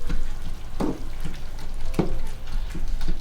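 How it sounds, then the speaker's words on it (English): Sauce being stirred into meat in a pan while making stuffed peppers, with a continuous close sizzle and irregular scraping, sloshing stirs and occasional clicks against the pan. "we just mix together sauce with meat"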